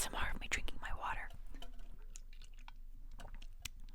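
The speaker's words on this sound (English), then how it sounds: "ASMR of me drinking my water." Close, quiet sips and wet mouth clicks of a person drinking water, following a brief soft whisper, with small swallowing and dripping sounds spaced out over a hushed background.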